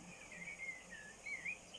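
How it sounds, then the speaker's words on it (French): Birdsong outdoors in a calm setting near running water: a few soft, high chirps drift in and out over a steady, quiet background hiss. "Branchez votre concentration peut-être sur les sons des oiseaux que vous entendez"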